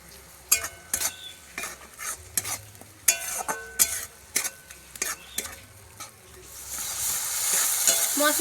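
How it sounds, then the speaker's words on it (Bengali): Coriander and cumin paste fries in hot oil, with repeated sharp spatula strikes and scrapes against the pan over a low sizzle, the sizzle swelling into a loud continuous hiss near the end. No one speaks. "মশলাগুলোকে হালকা করে একটু ভেজে নেব"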